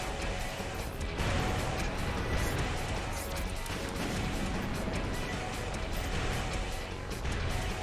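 Missiles launch and explode in Armored Core Nexus, a continuous loud roar of blasts and impacts layered into a dense, unbroken barrage.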